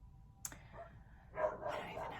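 Dogs bark in the background indoors, one sharp bark followed by a faint burst of barking and yipping, heard at a distance.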